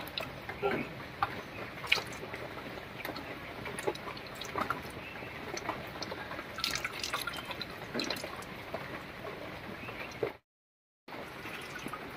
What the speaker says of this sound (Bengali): প্রথমে ডালটা ধুয়ে নিচ্ছি।